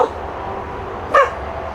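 A dog in a garden gives a short, sharp bark near the end of a brief moment against quiet outdoor background, close and moderately loud, with a faint yip at the start.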